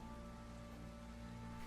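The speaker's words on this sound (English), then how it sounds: "it's pissing down rain, what do you expect?" Steady rain pours down in The Witcher 3: Wild Hunt, a constant dense hiss of falling water with a faint tonal hum beneath it, unbroken and moderately quiet.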